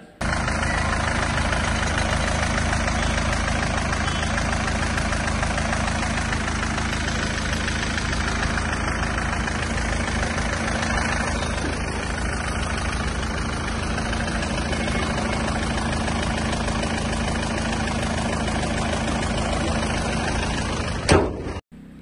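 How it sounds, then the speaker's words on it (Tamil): Steady diesel car engine idling close by, a constant low rumble with mechanical clatter throughout, and a brief thump near the end. "இன்ஜினோட நாய்ஸ் எல்லாமே லைவாக கேட்டிருப்பீங்க டீசல் வண்டி ஒரு டீசெண்டான நாய்ஸோடு வந்து இந்த வண்டி வந்துருக்குது"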